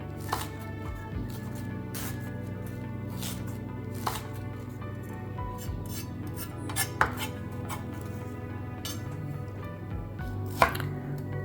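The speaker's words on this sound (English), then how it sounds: "Now we're going to cut up a half of an onion." Half an onion is chopped with a knife on a cutting board, a series of sharp knocks at an uneven pace, close and fairly quiet, over a low steady hum.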